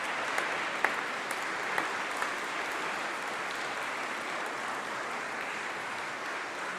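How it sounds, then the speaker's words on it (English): A large crowd claps steadily and continuously, a dense roomful of applause with a few sharper claps standing out near the start. "give them all a huge round of applause"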